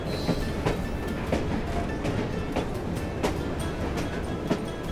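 A train in the Assassin's Creed Syndicate video game set in London rolls past with steady, rhythmic clickety-clack wheel beats over a continuous rumble, loud and close throughout.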